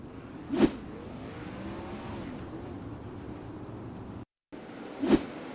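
Wingless 360 sprint cars racing on a dirt track, a steady distant engine drone with two brief louder bursts as cars roar past, and a short dropout near the end.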